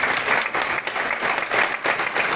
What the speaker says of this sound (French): Tout d'abord, vos applaudissements à Kelly Lala